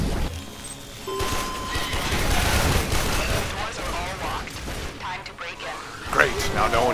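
Gunfire in the shooter Warframe crackles in bursts through a busy battle mix, with crashes and a sharp spike near the end, while someone talks over the action.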